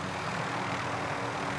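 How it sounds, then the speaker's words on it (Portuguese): Helicopters fly in Call of Duty: Modern Warfare, a steady, loud engine and rotor drone that fills the whole moment without pause or speech. "Tenta não perder esses helicópteros, hein?"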